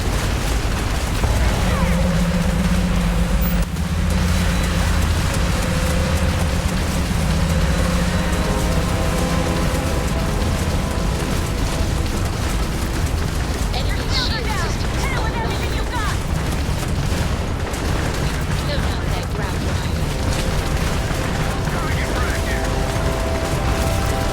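Spaceship weapons fire in a space battle in Starfield, with dense, loud bursts and booming blasts layered over a constant roar of engines and effects, while radio voices talk over the action.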